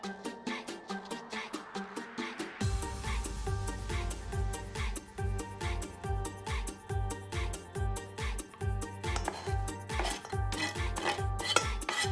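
Shredded meat for Belizean salbutes is stirred in a pot, a spoon scraping and knocking against the metal in a steady repeating rhythm, close and clear, with no talking.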